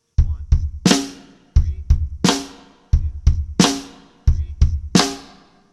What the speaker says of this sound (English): If we put the bass drum and the snare drum together, it sounds like this.